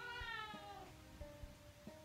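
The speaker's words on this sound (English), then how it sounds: "That was a cat." A cat in the Obey Me dating game meows once, a drawn-out falling cry that fades, followed by faint soft clicks and quiet background.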